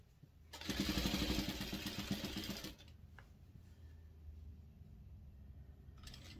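A sewing machine stitching binding onto a quilt runs in a fast, rattling burst of close needle strokes for about two seconds, then stops, leaving quiet handling noise.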